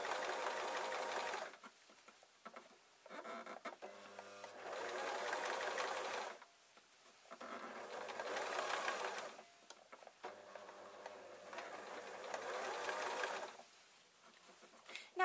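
A sewing machine stitches a seam in very lightweight fabric for a small drawstring storage bag, running in steady whirring bursts of a few seconds each, broken by short pauses and faint handling sounds, close and fairly quiet.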